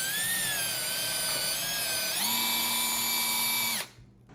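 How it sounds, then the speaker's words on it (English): A power drill bores a pilot hole near a sill plate, its motor whining at a steady high pitch that shifts once partway through, then cuts off abruptly near the end, loud and close with no talking. "I'm gonna run this pilot bit right in the corner"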